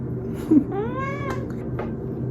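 A female Siamese cat gives one drawn-out, rising-then-falling meow up close, over a low steady indoor hum with no talking.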